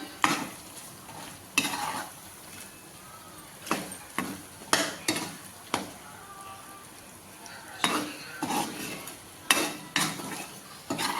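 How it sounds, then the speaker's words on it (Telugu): Ginger-garlic paste fries in a pan over a flame for chicken pickle, a steady soft sizzle broken by repeated sharp scraping strokes of a utensil against the pan, close and fairly loud, with no voices. "ఫ్లేమ్లో పెట్టుకొని ఇప్పుడు ఒక రెండు మూడు నిమిషాలు దీంట్లో ఫ్రై చేసుకుంటాను"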